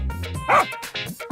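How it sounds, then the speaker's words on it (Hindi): A cartoon dog barks loudly at a man, one sharp bark-like burst rising out of the animated soundtrack, with voices and music around it. "कुत्ता सनकीलाल के पास जाकर जोर से भौंकने लगता है।"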